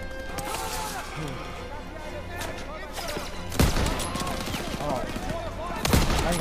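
Rapid gunfire from a weapon in the World War II shooter game Call of Duty WWII rattles in dense bursts, with sharp heavy blasts standing out near the middle and end, over busy game sounds and a talking voice.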